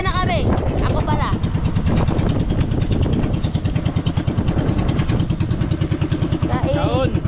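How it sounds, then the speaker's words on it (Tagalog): A small boat's engine chugs steadily in a fast, even rhythm close by, loud throughout, while a few voices talk briefly over it at the start and end. "Andarin ko pa yung makina."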